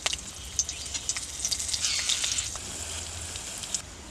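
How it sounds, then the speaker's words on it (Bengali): Black cumin seeds fry in hot oil in a wok, a close, bright crackling sizzle with small pops that swells briefly in the middle before easing off. "তেলটা গরম হয়ে গেছে, এতে কালো জিরা দিচ্ছি ফোড়নে"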